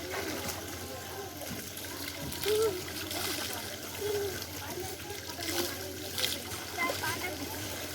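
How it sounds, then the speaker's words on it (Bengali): Water splashing as someone bathes in cold water in a village pond, a steady wash of sloshing and trickling with occasional louder splashes, while people talk over it. "তুই পুকুরে কেন স্নান করবি, কলে করবি নি?"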